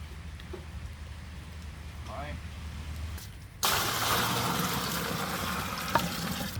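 Rain falls steadily in a Thai cemetery, a soft wash that jumps to a louder, denser patter partway through, with a faint voice present.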